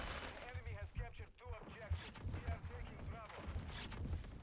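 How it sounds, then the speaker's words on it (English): Explosive booms and rumbling gunfire from a missile strike in Call of Duty Modern Warfare 2, heavy blasts repeating under a steady game soundscape with a voice talking over it. "Another, missile strike there, huh?"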